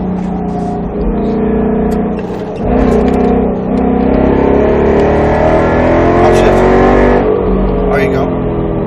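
A Roush Mustang RS3 on a track at Speed Vegas revs hard through the gears, a loud close engine drone that climbs in pitch, drops briefly at upshifts and climbs again.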